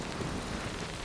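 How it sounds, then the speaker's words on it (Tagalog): Steady heavy rain falls around Canyamel on Mallorca, a soft, even hiss of drops spread across the whole clip, fairly faint, with no voices. "Ayan, naulan na naman."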